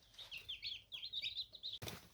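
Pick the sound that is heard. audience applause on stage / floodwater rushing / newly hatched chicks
newly hatched chicks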